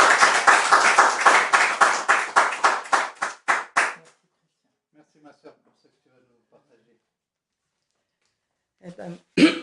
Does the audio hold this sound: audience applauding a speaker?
yes